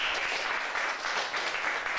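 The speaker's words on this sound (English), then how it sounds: "Clap for him." Audience clapping at an African heritage and culture celebration on a reading reality TV show, a steady continuous patter of many hands at moderate loudness throughout, with no talk over it.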